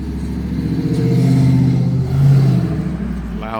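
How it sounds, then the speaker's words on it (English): Loud trucks pass close by on the street, and their deep engine rumble swells and fades as they go past. "Loud trucks coming through here."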